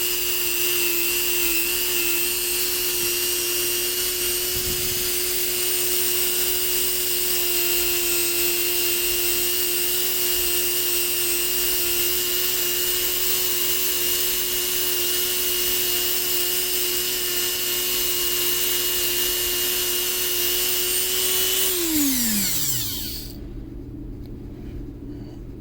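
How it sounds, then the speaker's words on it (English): A Dremel rotary tool, spun at roughly 15,000 to 20,000 RPM, polishes cheap Glock internals with compound, holding a steady high whine before winding down sharply near the end. "let's get to the Dremel work."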